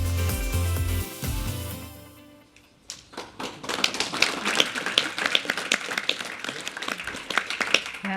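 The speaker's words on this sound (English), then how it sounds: "that was definitely worth an applause" An event audience breaks into applause, a dense patter of many hands clapping that starts after a brief lull and carries on steadily, fairly close and loud.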